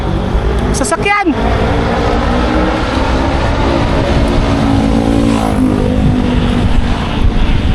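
A car sweeps past on a city road in Manila, loud and close, its engine rising to a rush, then a steady traffic roar as it fades, with people talking over the noise.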